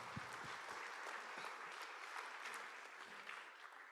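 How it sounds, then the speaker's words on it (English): Steady audience applause at an outdoor Hawaiian homestead subdivision lot orientation meeting, a dense wash of many hands clapping that holds evenly for the whole stretch, moderately distant, with no voices over it. "I want to applaud you, beneficiaries, Ohana and friends, for coming out today"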